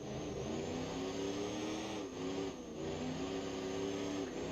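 Twin-turbo V8 diesel monster truck engine in BeamNG.drive, a steady loud mid-pitched drone that dips briefly twice as the throttle lifts and comes back on, running continuously with no voice over it.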